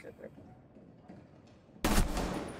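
Gunfire in a first-person shooter video game: a quiet, murky stretch breaks into a sudden loud burst of shots near the end, which rings on in a sustained roar.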